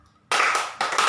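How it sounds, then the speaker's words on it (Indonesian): Two sharp, loud hand claps follow each other closely, each a strong crisp smack standing alone with no talk. "Kalau tepukan kuat"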